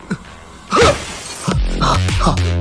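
Cartoon glass window shattering as a character bursts through it, a sudden bright crash with scattered debris following, mixed with other short animated effects.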